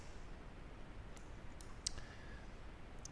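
A few quiet, sparse computer mouse clicks over a low room hiss in a software tutorial setting, the clicks brief and isolated.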